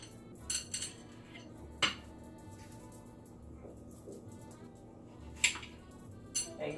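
Knife slicing an onion on a board, with a few scattered, faint clicks and taps of the blade, quiet and close, with soft talking in the background.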